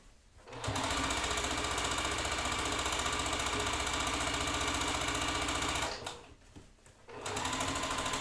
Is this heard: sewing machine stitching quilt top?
yes